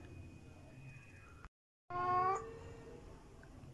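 A talking pet parrot imitates a cat's meow: one short, close, clear meow after a brief silent gap, over a faint room background with no speech.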